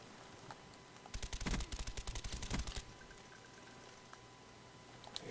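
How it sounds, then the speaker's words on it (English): Automatic gunfire from a first-person shooter video game sounds in two quick bursts of rapid shots, fairly faint, with quiet game ambience between them. "Hear shots being fired."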